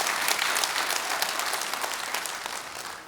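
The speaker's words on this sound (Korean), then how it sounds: "박수 치고 싶으세요? 박수 치세요." A lecture hall audience at a special lecture in Pyeongtaek breaks into sustained, dense applause, with many hands clapping together. The applause is loud at first and slowly tapers over a few seconds.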